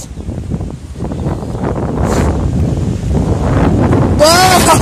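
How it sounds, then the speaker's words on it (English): Strong wind blows outdoors, buffeting the microphone with a loud, continuous rumbling roar that builds over time, with a voice briefly heard near the end. "You feel this wind?"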